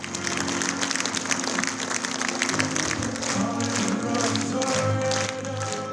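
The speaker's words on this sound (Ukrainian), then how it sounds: "Драма отримала 10-хвилинні овації від глядачів фестивалю" Festival audience giving a film an ovation, steady crowd clapping mixed with background music or hum, moderately distant and continuous.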